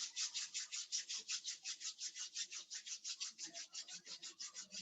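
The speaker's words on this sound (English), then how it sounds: "Rub our hands." Palms rub briskly together during a yoga session, a quick regular swishing rhythm of about five strokes per second, close and soft, with no talk.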